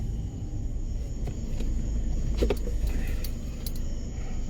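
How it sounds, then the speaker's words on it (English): A car driving, heard from inside as a steady low rumble of road and engine noise, with a few faint clicks and rattles. "I'm driving and I'm talking at the same time"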